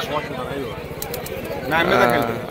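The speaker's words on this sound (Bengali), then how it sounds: "খুব সুন্দর একটা পায়রা।" Pigeons coo at a crowded rural bird market in Murshidabad, a low rolling cooing close by, with people talking throughout and faint higher chirps in the background.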